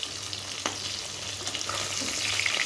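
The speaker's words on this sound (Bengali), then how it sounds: "এই পিসটা কিন্তু হয়ে গেছে, সুন্দরভাবে কিন্তু ভাজা হয়ে গেছে।" Pieces of fish fry in hot oil in a pan for a fish curry with brinjal, giving a steady, close sizzle with small crackles and pops and no talking.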